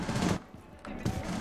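Two short bursts of rapid gunfire in the video game Rainbow Six, split by a brief quiet pause, moderately loud and close.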